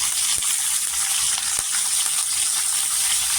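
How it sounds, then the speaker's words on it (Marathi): Mustard seeds, cumin and fresh curry leaves spluttering in hot oil for a potato bhaji, a steady close crackling sizzle with scattered sharp pops throughout and no voices. "राय जिरं छान असं तरतरलं पाहिजे. इथे कढीपत्ता टाकायचा फ्रेशवाला, कढीपत्ता पण तरतरला पाहिजे."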